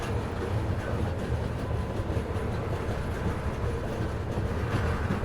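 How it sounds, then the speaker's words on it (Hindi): Steady, loud rumbling and rattling of the Bihar Sampark Kranti Express train running through Daliganj junction near Lucknow, heard from on board, with continuous wheel noise and faint rhythmic clatter. "फिलहाल अपनी ट्रेन जो है डालीगंज जंक्शन को स्किप कर रही है।"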